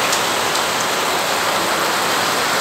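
Heavy rain pours down steadily, filling a canal with water; a loud, dense, unbroken hiss of downpour close by, with no talking.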